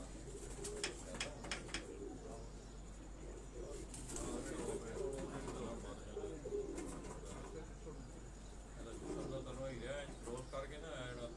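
Pigeons at a rooftop loft in Model Town, Lahore, coo in soft repeated bursts through most of the stretch, with people talking and chatting nearby throughout.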